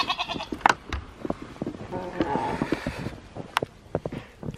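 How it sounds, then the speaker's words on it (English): Several goats bleat in short, wavering cries, close by, amid scattered rustling and shuffling noises, during a snowstorm with wet, sticky snow. "You goats don't want nothing to do with this, do you?"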